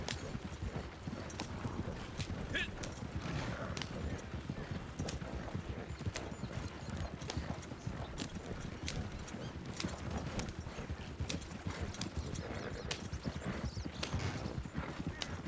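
Horse hooves clip-clop in a fast, steady rhythm in the video game Red Dead Redemption 2, continuous and close throughout, with a brief whinny near the start and no voices over it.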